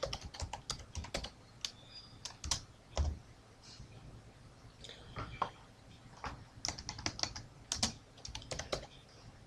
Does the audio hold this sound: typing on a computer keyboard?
yes